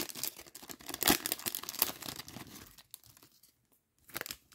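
A plastic wrapper on a hockey card pack is torn open close up, with bursts of crinkling and ripping that come in sharp spurts, then a pause and a last crinkle.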